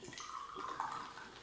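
A thin stream of liquid is poured from a long-necked magic bottle into a glass, a brief close gurgling trickle that rises slightly in pitch as the glass fills.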